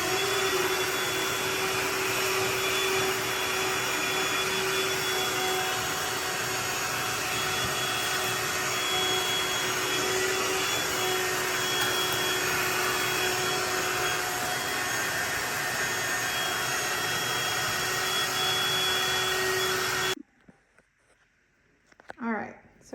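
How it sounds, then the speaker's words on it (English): A handheld vacuum roars steadily and loudly for about twenty seconds while cleaning out a clogged Shark DuoClean cordless vacuum, then cuts off abruptly, leaving a short stretch of quiet room sound. "Just needed a vacuum for our vacuum."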